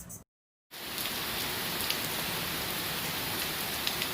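Steady rain falls on a south Florida garden, a dense, even hiss close by with occasional louder drops, following a brief moment of silence at the start.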